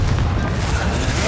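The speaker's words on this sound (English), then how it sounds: "Confringo!" A Confringo fire spell explosion in the video game Hogwarts Legacy, a loud, dense, rumbling boom that fills the whole moment without a break.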